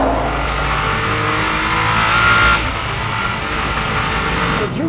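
A Nissan GT-R Nismo runs flat out down the back straight at Willow Springs, its engine a steady, loud high-speed drone with a brief rising whine and rushing wind throughout.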